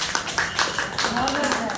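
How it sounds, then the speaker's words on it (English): Classmates in a micro-teaching lesson clap for a student, a short burst of irregular hand claps heard close by, with a teacher's voice speaking over them. "Clap to her."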